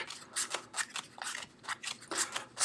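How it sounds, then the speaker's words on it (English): Crisp riffling and flicking of a David Blaine holographic Split Spades deck of playing cards being shuffled, several quick bursts close by with short pauses between, no voices. "try and do a few more fans and shuffles with the white deck"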